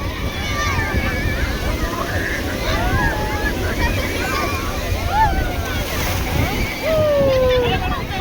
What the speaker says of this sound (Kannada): ಅಲೆಗಳ ಸೌಂಡ್ ನೋಡಿ